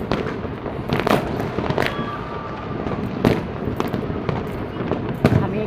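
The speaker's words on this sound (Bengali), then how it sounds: "মনে হচ্ছে বোম ব্লাস্ট হচ্ছে, এরকম একটা সাউন্ড।" New Year fireworks burst repeatedly from a high-rise vantage, sharp booming blasts like bombs going off over a constant crackle and wind rumble, fairly loud and irregularly spaced.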